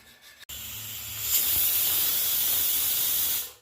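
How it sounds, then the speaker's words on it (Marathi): A loud, steady hiss of steam venting under pressure from a pressure cooker whistle, starting abruptly and rising slightly before cutting off near the end. "इथं कुकरची शिट्टी ना पडून झाली आणि मी कुकर खोलून घेते"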